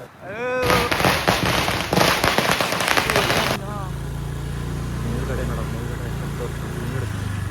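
Firecrackers burst in a rapid, loud string of cracks for about three seconds close by, followed by a lingering low engine-like rumble, with voices talking over the noise.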